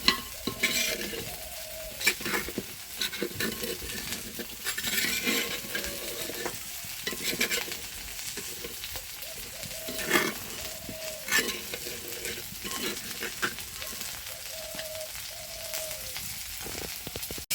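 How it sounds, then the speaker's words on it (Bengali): Dried fish (shutki) frying in a pan over a clay stove, giving a steady close sizzle with repeated stirring scrapes and clinks of a utensil against the pan throughout, no talking. "শুটকিটাকে নরম করে ভেজে নিতে হবে।"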